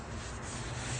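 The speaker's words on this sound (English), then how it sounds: "Just got to finish sanding this zone here" Steady, even sanding rasp on the body panel of a Chevy van being prepped for putty and primer, continuous and close with no pauses.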